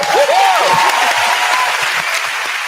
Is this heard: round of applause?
yes